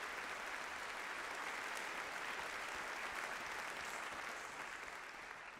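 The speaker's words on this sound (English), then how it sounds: "A big round of applause for Dick Cavett tonight" An auditorium audience at a university Charter Day celebration gives a sustained round of applause. The dense, even clapping fills the hall, then begins to fade near the end.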